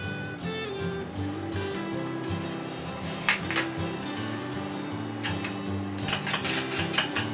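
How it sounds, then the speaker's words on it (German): A spoon stirs nutmeg and salt into a green dumpling mixture in a bowl, with scattered clinks and scrapes against the bowl over soft background music. "Das Ganze erstmal schön verrühren."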